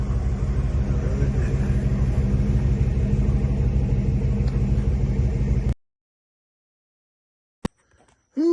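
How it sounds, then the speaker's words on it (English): A 1966 Dodge Charger engine runs steadily with a loud, dense low rumble for several seconds, then cuts off abruptly into silence before a brief click and a renewed burst of sound at the end. "Fire the charger back up, put it back in the paint bay."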